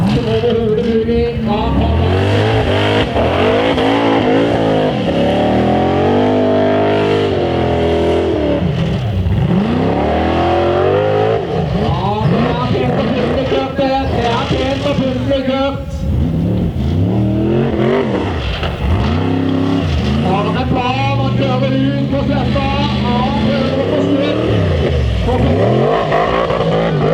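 A Formula Offroad race car's engine revs hard and repeatedly at a Matrand offroad course, with loud rising and falling sweeps that run continuously while a commentator talks over it.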